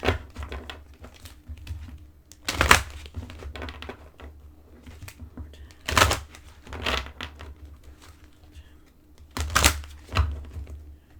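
Oracle and angel cards shuffled by hand in repeated bursts, three loud riffling flurries spaced a few seconds apart with softer handling and shuffling in between.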